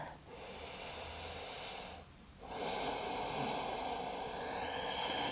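Slow, deep breaths drawn in and let out through the nose and mouth during a gentle yoga forward fold, two long airy breaths close and fairly loud with a brief pause between, no talking.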